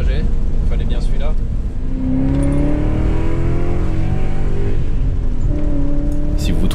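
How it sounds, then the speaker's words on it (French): Loud, raspy V8 of a BMW 730i whose original exhaust was replaced by plain pipes, droning steadily from inside the car with rising and falling revs throughout. "Si vous trouvez la voiture un peu bruyante, c'est normal. Visiblement, l'échappement d'origine était plus que pourri et à la place, il n'y a plus que des tubes."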